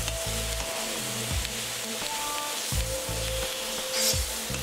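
Tomatoes and vegetables for pinakbet sizzle and fry in a pan while being stirred, with a steady crackling hiss and rhythmic scraping strokes of the spoon, close and alone.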